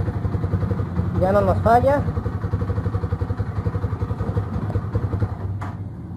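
An Italika RT250 motorcycle, just repaired after water got into its gasoline, idles with a steady, even engine pulse close by, while someone speaks briefly over it.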